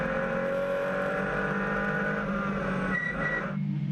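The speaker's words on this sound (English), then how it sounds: "Quite deep and throaty roar that these cars produce." A deep, throaty Porsche race car engine roars steadily at close range, its tone shifting slightly before fading near the end.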